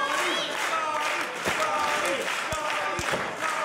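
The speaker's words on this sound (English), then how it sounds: "Capacity crowd here at the Phoenix" A capacity crowd at a wrestling match at the Phoenix in Toronto fills the space with steady broadband applause and cheering throughout, with a few sharp thuds of ring action punching through the continuous roar.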